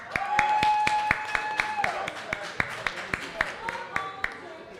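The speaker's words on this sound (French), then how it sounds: "Ben oui, on l'applaudit tous très fort!" An audience at the Dek Familiprix 24h draft event claps in a steady, evenly spaced rhythm of sharp, close claps, with a sustained tone and voices running underneath and the claps thinning toward the end.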